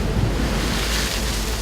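Big sea waves pounding against a rocky cliff at high tide, heard as a steady, loud broadband roar with constant low rumble and some wind buffeting on the microphone, no voices.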